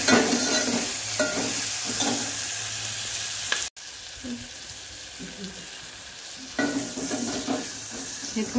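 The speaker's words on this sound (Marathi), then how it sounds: "हे थोडंसं परतून घ्यायचं" Ground masala for a special kadhi sizzles steadily in a pan while being sautéed, with close, recurring stirring scrapes and a brief pause midway before the frying continues.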